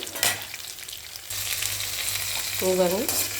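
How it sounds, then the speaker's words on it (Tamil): Green chillies for chutney frying in a pan, a continuous close sizzle that grows a little louder partway through, with a brief squeaky scrape near the end and no talking. "இதுவும் சேர்த்து பச்சை மிளகா நல்லா வதங்கட்டோங்க"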